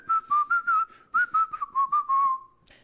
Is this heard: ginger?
no